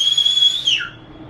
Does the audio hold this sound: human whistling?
yes